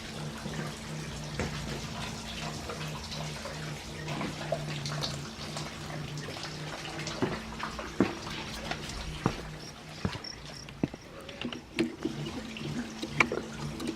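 Water overflowing from a Kratky hydroponics setup inside an earthship, a steady trickling and splashing flow with a low hum beneath and occasional small clicks and knocks, fairly quiet and continuous.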